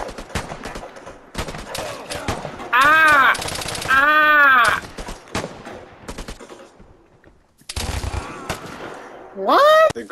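Bursts of grease gun fire in the video game Vigor, rapid automatic volleys loud and close, alternating with shorter shots and a voice reacting between them.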